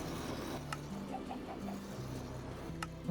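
Chickens in Minecraft cluck in a short soft series over a low tonal game backdrop, faint and fairly distant, with a couple of sharp clicks.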